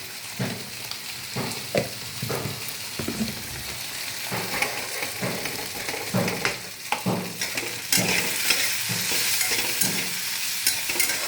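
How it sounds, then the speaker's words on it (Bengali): Paneer sautés gently in a pan on low to medium heat, a soft continuous sizzle broken by repeated scraping and clinking strokes of a spoon stirring, close and fairly quiet, with no talk. "এটাকে আমি একটু সটে করছি হালকা হাতে"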